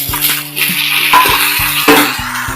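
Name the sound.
tomatoes sautéing with onions in pan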